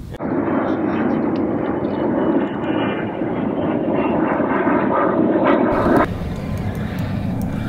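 A jet aircraft passes overhead near coastal fishing waters at Crawfordville, a loud, continuous roaring drone that holds steady for several seconds, then drops off abruptly near the end, with no talk over it.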